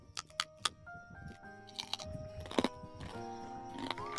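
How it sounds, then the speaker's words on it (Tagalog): Chicharon, crispy fried pork rinds, being bitten and chewed up close: sharp crunches in quick bursts followed by steady chomping, with some background tones underneath. "Yun lang unang kagat. Sarap naman yan, chicharon."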